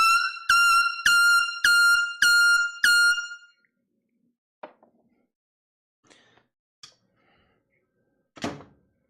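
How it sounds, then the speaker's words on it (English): A mini air horn blares in five short, loud, harsh blasts in quick succession indoors, followed by a few faint thumps and knocks. "We're going to bring out the mini air horn."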